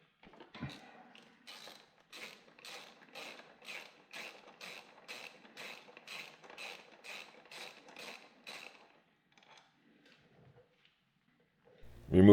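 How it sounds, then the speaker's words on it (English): Rapid ratchet clicking in a steady run of about fifteen even bursts as the front brake caliper bolts are loosened on a 2014 Kawasaki KLR 650 motorcycle, close and clear, followed by a few quieter taps and a loud clunk at the end. "and then remove both caliper bolts."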